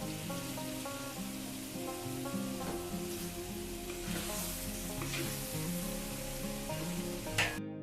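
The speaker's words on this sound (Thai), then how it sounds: "ไข่สุกดีแล้วเราก็ใส่กุ้งลงไปเลยนะคะ" Shrimp dropped into a frying pan with cooked egg set up a steady, close sizzle that runs the whole time beneath continuous background music, with a few brief stirring clatters.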